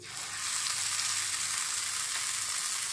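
Small spoonfuls of fish manji pitha batter fry in hot oil, making a dense, even sizzle that swells in the first half-second and then holds steady and close.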